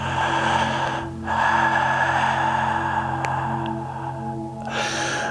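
Slow, audible breathing during a Taikokyu stretch with a 6-foot staff: long, airy inhales and exhales over a steady, tonal background hum.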